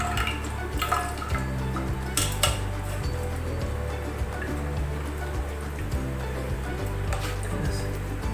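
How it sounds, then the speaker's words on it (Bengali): Water drips and trickles as strained spices for a mutton yakhni pulao are squeezed by hand, with light splashes and occasional clinks of a metal vessel against a steady background hum. "এবারে এই মশলা থেকে আমি এখানে চিপকে চিপকে জলগুলো বার করবো।"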